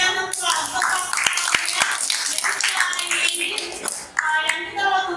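A group claps together in a lively burst of applause lasting several seconds, with a few sharp individual claps standing out; voices murmur beneath.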